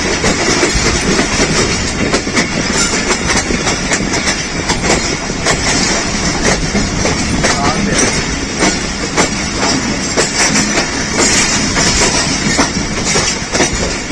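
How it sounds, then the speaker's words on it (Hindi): The Hazara Express rolls into platform 4 at Rawalpindi with steady rumbling and rhythmic clickety-clack of wheels over rail joints, loud and close, with metallic rattling throughout. "प्लेटफॉर्म नंबर 4 पर लग रही है हज़ारा एक्सप्रेस पिंडी में"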